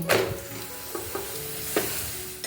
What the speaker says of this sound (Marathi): आता मी याच्यावर तेल टाकते आणि याला उलटून घेते